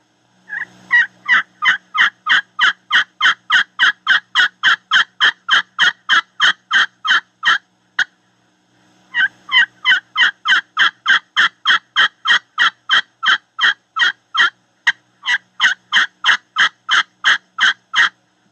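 A hunter's turkey call imitates an old hen's assembly call: a long, steady series of loud, evenly spaced yelps, close and unaccompanied, broken by one brief pause partway through.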